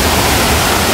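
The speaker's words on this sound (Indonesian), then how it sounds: "ada air terjun kecil gitu" Small waterfall at a colonial-era Dutch and Japanese irrigation structure in Cibedil, Bayah, Lebak, Banten, giving a steady, dense broadband rush of falling water, close and constant with no talk over it.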